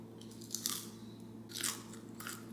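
A crunchy cooked sweet potato is bitten and chewed up close, with about three sharp crunching bursts over a quiet background.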